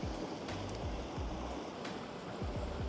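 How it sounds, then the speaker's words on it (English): Fast-moving river current rushes steadily at low level, a continuous broadband wash with faint low thumps and occasional splashes, no speech. "Water is cranking. Wow, water's moving."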